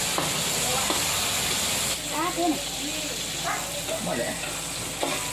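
A child stir-frying egg fried rice in a pan: a continuous sizzle with repeated spatula scrapes and clinks close by, while voices chatter over the cooking.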